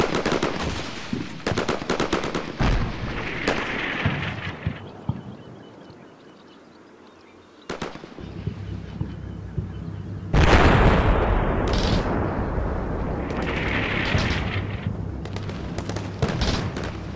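Artillery and gunfire crash in the video game Combat Mission Shock Force, with dense rattling bursts, a brief lull, then heavy sustained fire and booming impacts, loud and continuous.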